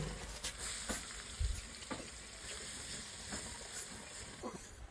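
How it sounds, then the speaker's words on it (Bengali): Chopped onion hits hot oil already seasoned with dried chillies and panch phoron, giving a steady close hiss and sizzle with a few soft clicks and pops throughout. "সামান্য ভেজে নিয়ে দিয়ে দিলাম পেঁয়াজ কুচি হাফ কাপ পরিমাণ।"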